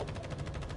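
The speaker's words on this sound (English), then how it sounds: "gunfire." Rapid automatic gunfire, a fast even rattle of shots lasting under a second, steady and fairly loud.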